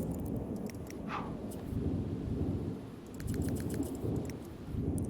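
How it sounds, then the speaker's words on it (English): A heavy thunderstorm in a video game, with continuous dense rumbling and rain-like noise rising and falling in waves, loud and close, with faint higher clatter on top and no speech. "super loud thunderstorm"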